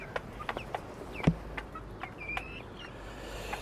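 Young hens cluck in a garden, with scattered short clucks and one louder cluck near the middle, fairly close over a soft outdoor background and no speech.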